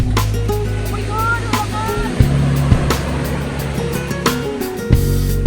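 Strong Pacific Ocean surf breaking on a beach, a steady roaring wash with a low engine-like hum and occasional thumps, close and loud, with no clear talk.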